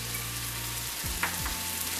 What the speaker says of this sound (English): The first thing I'm going to do is add the 1/4 cup of red wine vinegar